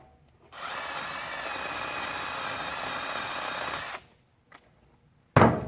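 A Snap-on Blue Point power tool whirs steadily for about three and a half seconds during front brake work on a 2010 Chevy Malibu, then cuts off, followed by a couple of faint clicks and a sharp knock.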